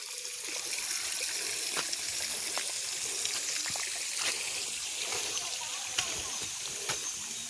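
Irrigation water flows and trickles steadily in a shallow channel on a natural farm, with small splashes and gurgles over a constant wash.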